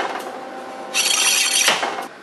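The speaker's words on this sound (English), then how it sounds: "Clean up the welds a little bit" Weld cleanup on a minibike frame with a hand tool, producing a short, harsh rasping scrape that starts partway through and runs under a second before stopping, close and fairly loud.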